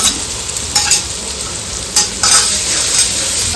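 Ground spice paste of coriander, cumin, chilli and turmeric fried with onion, ginger, garlic, green chilli and tomato, giving a loud close sizzle with sharp bursts of spluttering and a couple of spoon scrapes.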